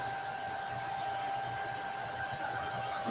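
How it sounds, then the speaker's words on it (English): A low-temperature hair dryer blows on a craft project, a steady close whooshing hum with a constant whine that runs the whole time, with no one speaking. "I'm just using a low temp blow dryer."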